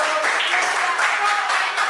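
Classroom students clap together, a loud, dense burst of applause that fills the whole moment at close range.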